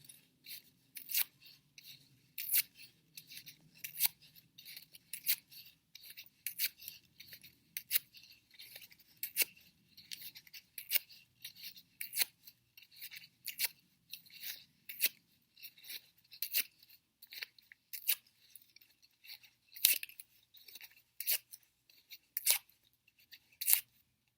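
Paper strips are torn into smaller pieces during an occupational therapy craft activity. Dozens of short, crisp rips and crunches repeat steadily, close and quiet, with no talking.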